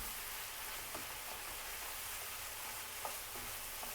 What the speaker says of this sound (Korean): 반 스푼 정도 넣고